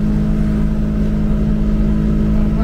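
A Twister motorcycle engine drones steadily at speed on a highway in fifth gear, loud and close with an even, unbroken hum and rushing wind.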